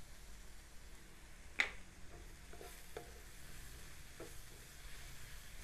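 Garam masala and turmeric being stirred in a frying pan, a faint steady sizzle with a sharp scrape of the utensil at about a second and a half and a few softer knocks after.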